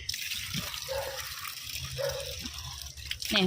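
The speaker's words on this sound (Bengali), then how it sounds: "জল দিয়ে ভিজিয়ে রাখি ধুতে হবে" Water poured over freshly dug turmeric roots to soak them, a steady close gush and trickle with small drips, running continuously under faint background sounds.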